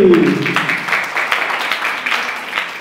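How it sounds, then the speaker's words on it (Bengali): Loud, sustained applause from a crowd of guardians and children at an Independence Day and Janmashtami celebration at a Ramakrishna Mission centre. The clapping is dense and continuous, with a brief voice at the very start. "জোরে হাততালি"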